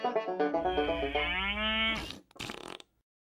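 A cartoon cow moos in a long, rising and sliding bellow, loud and close, followed by a short rough spluttering burst before it stops.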